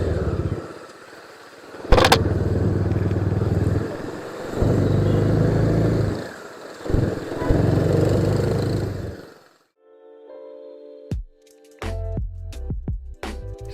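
A new 2021 Bajaj Dominar 400 BS6 motorcycle engine running and revving on a first ride, a loud steady drone with surges and dips, then a brief lull and a few sharp knocks and clicks near the end.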